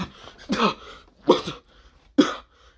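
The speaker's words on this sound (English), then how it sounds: "This is where, well, Vali's coughing up blood." Three harsh, wet coughs spaced apart, close and fairly loud, with quiet pauses between them.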